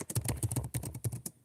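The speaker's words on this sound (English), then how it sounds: "I'm currently typing up a message" Quick, irregular keyboard typing as a chat message is entered on a computer, with a dense run of close key taps that stops briefly near the end.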